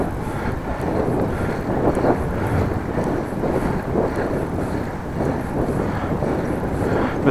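Headwind buffets the microphone of a cyclist riding between Appingedam and Groningen near dusk, a loud, constant rushing roar with gusty low rumble and no other clear sounds.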